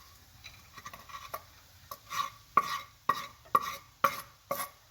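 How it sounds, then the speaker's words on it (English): Chopped garlic, ginger and green chilli stirred into mushrooms in a pan for a vegetable broth glass noodle soup, heard as a series of scraping stirs and light sizzling clatter, about seven strokes in steady rhythm, close and moderately loud with no talking. "Now add the chopped garlic, ginger and green chilli into it."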